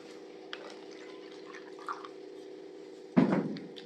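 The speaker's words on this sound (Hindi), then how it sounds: "ये पानी इसमें मैंने डाला" Plain RO drinking water poured into a glass already holding a little sesame oil, heard as a short, fairly loud splash near the end after faint drips over a steady low hum.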